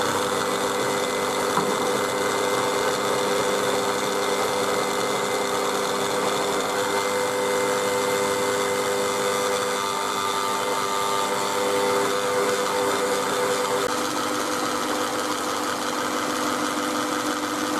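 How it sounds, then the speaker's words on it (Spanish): Electric mixer whirring steadily as it beats eggs and sugar with lemon zest, a constant close motor hum without pauses or talk. "Y lo ponemos a batir y tiene que doblar el volumen."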